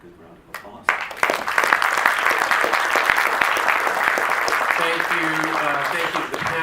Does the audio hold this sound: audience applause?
yes